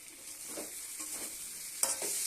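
Spices and vegetables frying in a pan while cooking a vegetarian dish with pointed gourd and lentil dumplings, a close steady sizzle with a few stirring scrapes, no voices.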